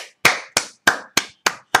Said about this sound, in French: Applaudissements, mes frères et sœurs.